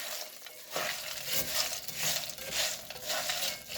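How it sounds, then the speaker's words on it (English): Rice Chex cereal stirred through melted butter in a pan, giving a steady, close crackling shuffle with soft sizzling that swells and eases in rhythmic waves, with no talking. "So we're just going to stir these real quick because we want the butter to be coating all of them pretty well."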